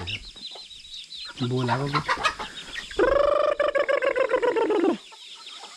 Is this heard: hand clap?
no